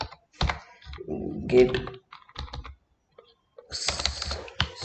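Bursts of computer-keyboard typing while HTML code is entered, clustered keystroke clicks separated by short pauses, with a voice speaking briefly between them.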